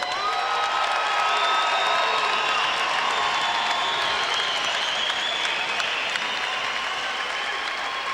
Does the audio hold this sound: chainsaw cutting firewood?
no